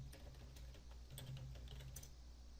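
Faint, quick clicking of keys on a computer keyboard, heard close but at low volume over a steady room hum.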